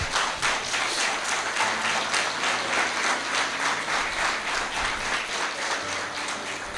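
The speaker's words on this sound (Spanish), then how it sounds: "Denle un aplauso al Señor." A church congregation breaks into sustained applause, steady dense clapping filling the room at an even level from start to finish.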